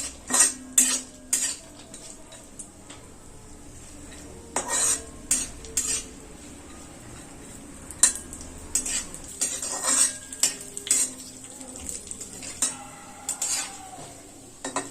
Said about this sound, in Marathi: आणि आपण हे आता ड्रायफ्रूटचे काप केलेत ना, काजू बदाम, ते भाजून घेऊया याच्यामध्ये.